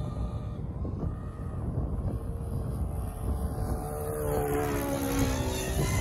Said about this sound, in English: The engine tends to run better for whatever reason with this prop